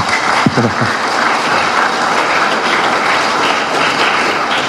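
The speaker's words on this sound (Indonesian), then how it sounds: "Tepuk tangan yang keras." Loud, steady applause from the audience at a graduation ceremony for Diploma-3 graduates of Akademi Teknik Soroako, filling the whole stretch as a dense, even wash of clapping with a brief sharper burst near the start.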